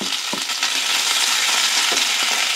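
Onions and chili frying in hot oil and ghee give a steady, loud, close hiss, with a few soft stirring knocks of a utensil in the pan and no talking.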